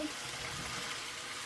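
Water from a sardine can pours into a pan, a faint, even trickling rush heard steadily throughout without any talking.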